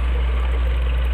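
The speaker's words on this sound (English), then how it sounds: "The water just drips out into the media that I have, which is going to act as a biofilter." Water trickles out of a PVC pipe into the growing media of a small aquaponics biofilter built from recycled two-litre bottles, a steady close wash of dribbling flow under a constant low pump hum.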